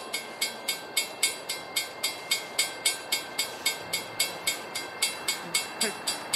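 Rhythmic clickety-clack of a train passing steadily on a CSX and Amtrak line, a regular beat of wheels over rail joints with a rumbling background.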